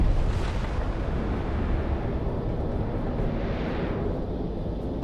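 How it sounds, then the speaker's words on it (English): A dense, continuous roar of rumbling explosions in the flight combat video game Project Wingman fills the whole stretch, loud and close, with no voices over it. "That bunker's gone. Missiles. Executed. Explosions this close?"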